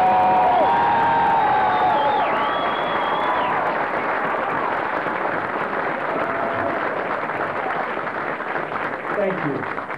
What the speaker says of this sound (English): ask them to please rise and give them a big round of applause